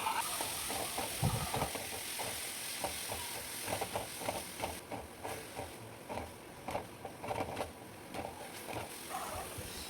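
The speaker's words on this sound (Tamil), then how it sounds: "பச்சை மிளகாய் இது ரெண்டுத்தையும் ஆட் பண்ணி நல்லா வதக்கி எடுத்துக்கணும்" Onions and green chillies sizzle in hot oil, with a spoon stirring and scraping the pan in a loose rhythm throughout.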